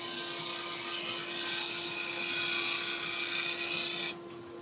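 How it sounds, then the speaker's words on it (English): A wood lathe gouge cuts a spinning salt and pepper grinder blank with a steady, close, bright whirring scrape and a constant hum. It runs unbroken for about four seconds, then stops abruptly, leaving quiet room tone. "I'll do a little skew cut with the bottom of the gouge"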